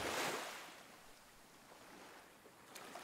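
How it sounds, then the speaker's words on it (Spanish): Sea waves wash in, a soft surge of surf swelling at the start and ebbing into a low, steady hiss with wind noise, faint and alone. "Si cierras los ojos, puedes disfrutar del sonido del mar"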